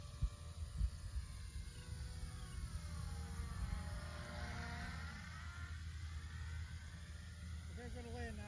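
An RC foam board airplane flies under power, its motor giving a steady buzzing drone whose pitch sweeps up and down as it passes overhead, moderately faint at a distance, with a steady hum underneath.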